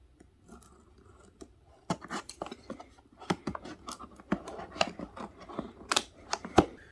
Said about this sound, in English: I'm going to go ahead and cut open this sticker so I can get inside